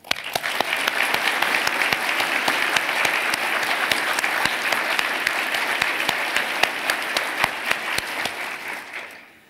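Audience applause for the National University Hospital and its staff at a ministerial address, a dense, steady wash of many hands clapping for about nine seconds before tapering off at the end.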